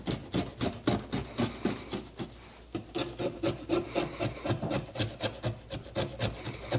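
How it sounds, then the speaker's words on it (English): Carbon fiber stickers being scraped off Subaru WRX interior trim: rhythmic, rasping strokes repeat steadily close up, with a brief pause midway and no talking. "So let's see if we can get this scraped off of here"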